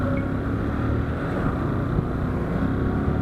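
Steady, close, rumbling engine drone of a jeepney moving slowly through a flooded street, with a continuous low wash of water and traffic noise and no talk.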